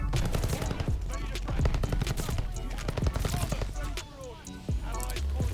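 Rapid Welgun submachine-gun fire on the small Shipment map in Call of Duty: Vanguard, dense bursts of shots running almost continuously, loud and close, with a voice talking over parts of it.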